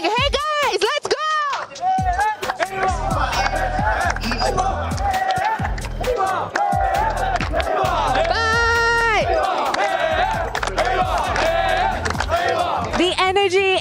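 Esports crowd roaring and cheering at the Free Fire grand final at EWC 2025, a loud continuous arena din with chanting and whistles, while a caster's voice and music run over the top.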